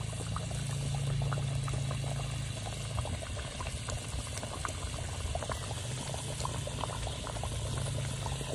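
Water boils hard in a pan for a Bengali doi katla fish curry, giving a loud, steady bubbling roar that runs unbroken throughout with no voices.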